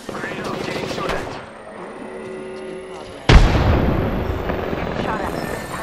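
Video game firefight with gunshots, explosions and a hovering helicopter-like drone, a loud burst of impact noise striking midway and dense firing continuing after, with voices talking over parts of it.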